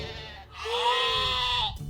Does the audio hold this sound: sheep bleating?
yes